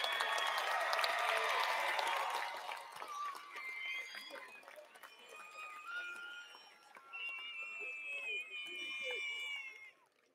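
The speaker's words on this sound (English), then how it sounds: "Let's give all of our graduates one more huge round of applause." A large audience at a high school commencement ceremony applauds the graduates, a dense, sustained roar of clapping with some shouts, loud at first and then easing off before fading out at the end.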